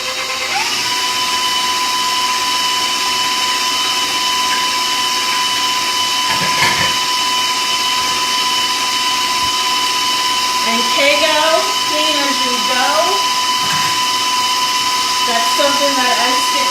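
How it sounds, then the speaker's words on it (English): An electric stand mixer beats French cruller dough at medium speed, giving a steady high whine and hiss throughout, with a few clattering bumps partway and a person talking briefly over it near the end. "I'm going to crank up that speed and let it mix for about 2 minutes on medium speed"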